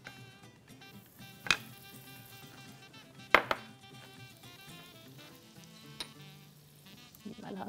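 Butter melts in a pan with a faint, low sizzle. A few sharp clinks of a utensil against the pan cut through a quiet background.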